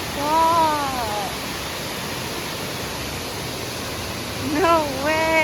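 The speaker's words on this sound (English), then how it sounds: "So the river keeps running right here. The water is coming off of the cliff here." Water from a river pours steadily off a cliff near Mt. Shasta, a constant broad rushing roar, with voices talking over it near the start and end.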